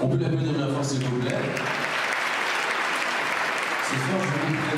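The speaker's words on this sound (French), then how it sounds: "sous vos applaudissements, s'il vous plaît." A crowd at the Miss Saône-et-Loire 2014 beauty pageant claps continuously for a few seconds, with a voice heard over the applause at the start and again near the end.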